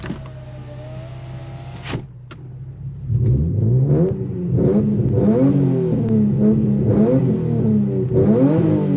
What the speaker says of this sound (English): Let's get a few more revs, but this time with the windows up